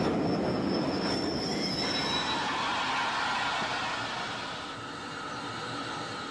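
An express train rolls steadily past with a high, drawn-out squeal of wheels on rails over a dense rumble, easing slightly toward the end.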